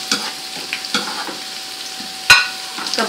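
Green chillies crackle in hot oil for a daal tempering, a light, close sizzle with small pops and one sharper burst, with no talking.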